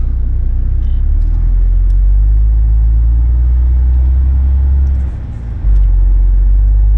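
Strong wind buffets a car on the move, a loud, steady low roar of wind and engine rumble that dips briefly before surging back.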